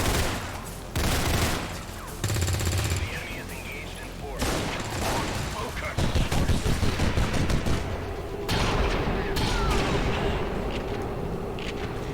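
Shotgun blasts fired at point blank in the video game XCOM 2, a rapid burst of several loud gunshots and impacts in irregular bursts, with clattering mechanical noises between them.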